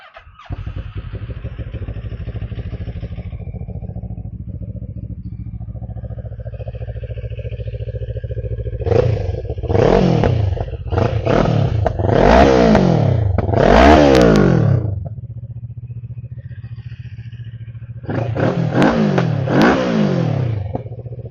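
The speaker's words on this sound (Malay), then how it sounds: "Motor Morini Escape 650 bunyi dia macam mana" A 2022 Moto Morini Xcape 650X motorcycle engine idles steadily, then is revved in several sharp bursts, a pause, and one more rising rev, close and loud.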